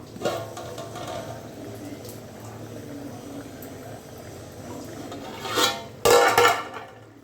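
Soft simmering of chicken curry in a pot with faint scraping, then a louder metallic clatter near the end as the lid is set on the pot.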